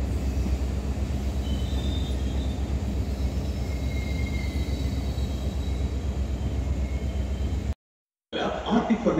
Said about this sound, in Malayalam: വടകരയിലെ മൂന്നാമത്തെ പ്ലാറ്റ്ഫോമിലാണ് ഈ ഒരു ട്രെയിൻ വന്നുകൊണ്ടിരിക്കുന്നത് കേട്ടോ